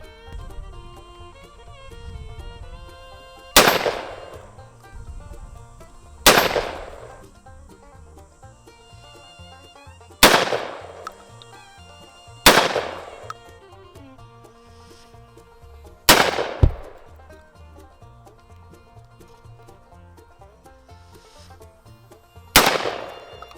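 Loud shotgun blasts firing live rounds, six sharp reports spaced a few seconds apart over a steady background, each with a short ringing decay.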